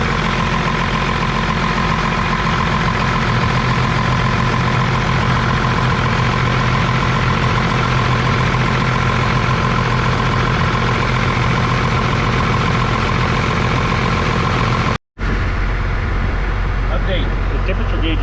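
A 12-valve diesel engine idles in a steady, loud, even rumble with a constant hum, briefly cutting out near the end before carrying on.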